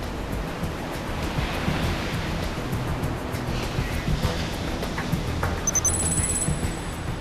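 Rough sea surf churns steadily outside a ship at sea off Busan harbour, a continuous broad wash of rising and falling waves with wind noise and faint high tonal beeps near the end.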